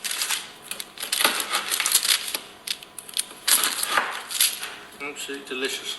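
A knife cuts a buttery baked tray bake into fingers, making crisp crunching and scraping strokes close up in uneven bursts. A voice speaks briefly over the cutting.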